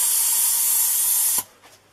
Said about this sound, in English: spray the top purple fronds, and this is simply a spraying process